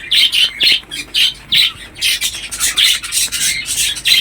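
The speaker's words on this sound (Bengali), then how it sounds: "এখানে বর্দি পাখি রাখা আছে।" Budgerigars chirp and squawk in their rooftop enclosure, rapid repeated raspy calls in close, loud bursts layered over one another without pause.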